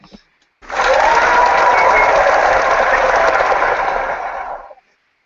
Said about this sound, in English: Let's give you some applause over here